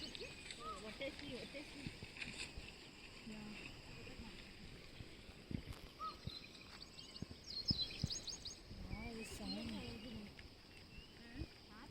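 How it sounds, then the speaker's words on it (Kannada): Birds sing and chirp in the grounds around a Buddhist temple, with scattered calls and short trills rising over a steady outdoor background that includes some low rumbling and knocking. "ಎಷ್ಟು ಚೆನ್ನಾಗಿ ಕೇಳಿಸ್ತೈತಲ್ವ ಪಕ್ಷಿಗಳ ಸೌಂಡು."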